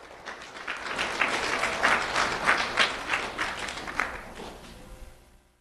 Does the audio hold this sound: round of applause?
yes